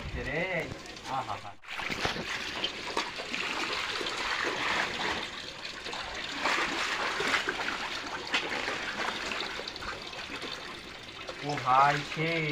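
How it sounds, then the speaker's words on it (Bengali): Water trickles and splashes steadily out of a homemade swimming pool on a house rooftop, a continuous wet rush with voices heard at the start and end. "পানি বার হয়ে যাচ্ছে রে"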